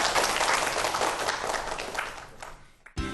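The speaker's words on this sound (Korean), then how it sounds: "오늘 재미난 세상을 열어주신 우리 교수님께 여러분 박수 한번 부탁드리겠습니다" An audience applauds a professor after a lecture on the mathematics inside mobile phones: a dense wash of clapping that holds steady, thins toward the end and stops abruptly.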